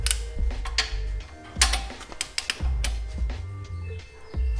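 Kingpin bolts on a Suzuki Jimny being torqued to spec with a torque wrench, heard as close metallic ratcheting clicks in short irregular bursts over a low mechanical rumble.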